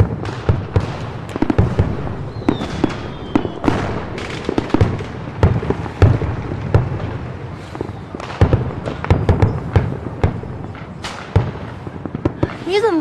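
A long, dense fireworks barrage pops and booms nonstop, with sharp crackles and deeper thuds overlapping close by and one brief whistle early on.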